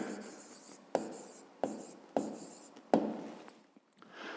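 Pen writing an answer on paper for a fifth-grade maths exercise, heard as close scratchy strokes with several sharp taps as the pen touches down, fairly quiet and without speech.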